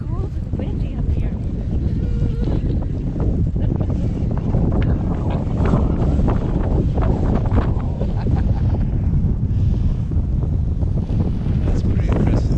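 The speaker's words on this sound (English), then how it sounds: "It's cold and windy up here." Cold wind buffets hard against the microphone on a clifftop along the Ring of Kerry in Ireland, a loud, constant low roar with gusty rumbling throughout.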